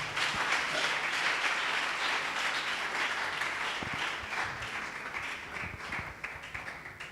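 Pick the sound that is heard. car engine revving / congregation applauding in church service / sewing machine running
congregation applauding in church service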